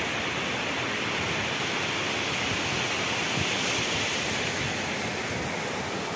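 A forest waterfall roars in a steady, dense rush of falling water that stays constant and close throughout, with no voices.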